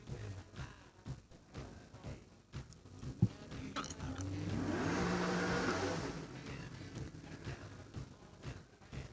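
A Holden Torana race car climbs a hillclimb course, its engine rising to a sustained rev in the middle of the run before fading, heard from trackside at moderate distance.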